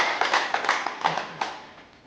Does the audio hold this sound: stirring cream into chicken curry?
no